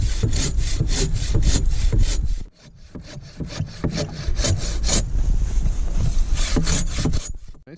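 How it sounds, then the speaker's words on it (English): Hand saw cutting firewood outdoors at a winter campsite, a loud steady back-and-forth rasp of regular strokes, briefly pausing partway through before resuming at the same pace. "Nice thing about cutting firewood, Dad, it warms you up 3 times"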